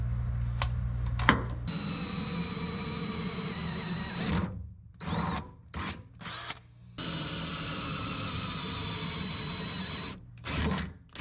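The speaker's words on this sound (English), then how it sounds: "I can drill a couple holes in the ground" A power drill whirs in several bursts, drilling holes, spinning up and stopping repeatedly with short pauses between runs, close and fairly loud.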